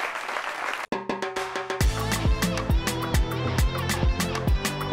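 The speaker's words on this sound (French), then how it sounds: "Applaudissements pour Koulibaly, Clarence et Kofi Yao Saint-Cyr, qu'on applaudit très fort." An audience at a staged show claps in a loud, sustained burst of applause after a brief hush, steady and close, with strong rhythmic beats running through it.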